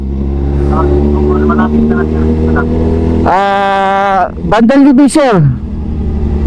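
A motorcycle's engine hums steadily in city traffic near C5 and Julio Vargas, then revs sharply in short rising bursts. Someone speaks close by between the revs.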